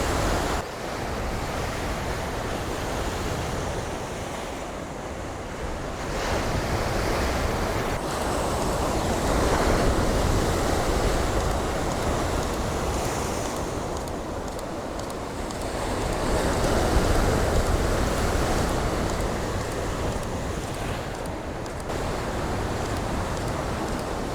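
Ocean waves roll and break on a shoreline, a steady broadband wash that swells and recedes in slow surges, with some wind buffeting the microphone and no voices.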